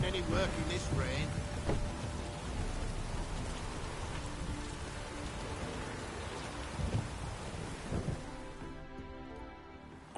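Steady rain in The Witcher 3 video game pours throughout with a rolling low rumble like distant thunder, fairly loud and continuous, easing slightly near the end.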